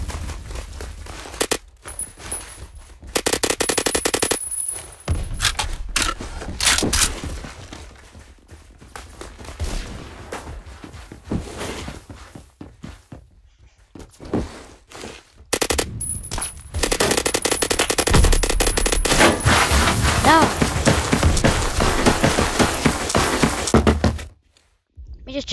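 Bursts of rapid automatic gunfire come from the shooter game Phantom Forces. Loud rattling volleys are separated by short silences, a long sustained burst runs near the end, and a voice talks briefly over it.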